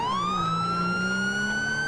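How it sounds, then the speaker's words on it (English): Police car siren from the video game LSPDFR wails steadily and loudly in one long rising sweep, the tone climbing slowly throughout with no talk over it. "Why am I having the sirens on?"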